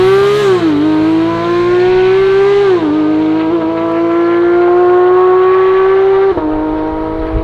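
Porsche 992 GT3 with an aftermarket exhaust revving hard and close, its engine note climbing and dropping through several sustained high-rpm pulls with a sharp dip near the end, loud and alone with no talk.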